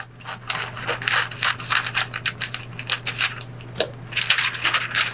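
Scissors cutting a paper sleeve for a sublimation mug, a close series of crisp snips and crinkly paper rustles in quick succession over a low steady hum, with no talking.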